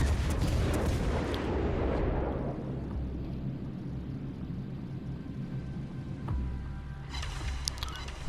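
Heavy naval shellfire from a Genova tier 4 premium cruiser in World of Warships Legends, a deep booming salvo and rumbling impact that decays slowly, followed by a fainter metallic crackle near the end.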